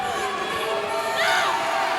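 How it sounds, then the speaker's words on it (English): A Seattle crowd roars at a Legends Football League game, a steady wash of distant cheering that swells slightly partway through, with a commentator talking over it. "The Seattle crowd coming to life"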